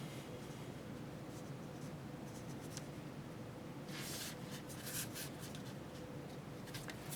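Gel pen tip scratching across paper while writing a name with a Signo, soft continuous scraping with a few brighter strokes bunched in the middle, close and quiet, no voices.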